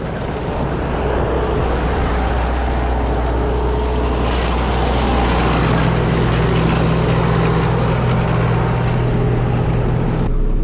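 Farm tractor engine running at a steady idle, loud and close with a constant low rumble and drone and a slight rise in pitch midway, with no voices.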